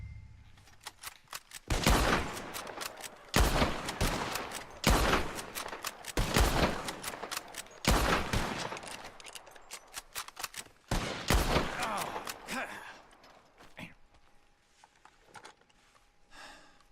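Gunfire in a Red Dead Redemption 2 shooting contest: about six loud bursts of rapid shots in fast succession, each followed by a short lull, ending with quieter sound and a faint tone.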